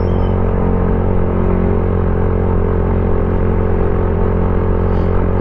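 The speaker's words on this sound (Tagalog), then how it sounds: "njoy nyo muna tong ride ko papunta sa Cheska para marinig nyo yung tunog ng ating motor." A Motorstar Cafe 150 motorcycle engine hums steadily while being ridden, a loud, continuous low drone with rushing wind noise and no pauses throughout.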